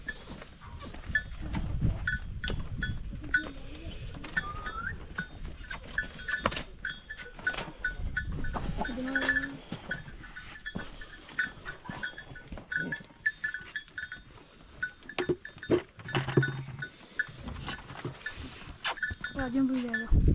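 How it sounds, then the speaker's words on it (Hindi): Goats and other farm livestock coming back to their pen at a mountain homestead in Azad Kashmir, with bleats, rustling movement and a faint bell over steady outdoor background, while people talk nearby. "सिर्फ और सिर्फ ये बकरियां रह गई थी, और ये भी वापस आ गई हैं"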